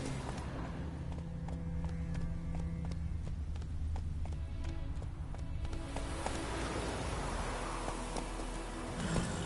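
Horse galloping in The Witcher 3 video game: a steady run of hoof clops under a constant background music and ambience bed, with no speaking heard.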